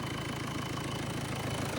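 A cold tractor engine idles while warming up, thumping in a fast, steady, close rumble that holds unchanged for a short stretch with no voices.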